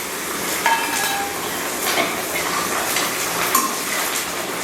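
Garlic frying in hot oil with mustard seeds, dried manathakkali berries, dried red chillies and curry leaves for tamarind kuzhambu, a steady bright close sizzle with occasional spatula clinks and pops, no voices.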